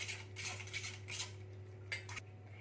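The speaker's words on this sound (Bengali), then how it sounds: "এটা আমি ছুরি করে ঘেটে নিচ্ছি" A knife stirs and mixes an egg mixture in a bowl, giving quiet, irregular clinks and taps of metal against the bowl in short bursts, close by.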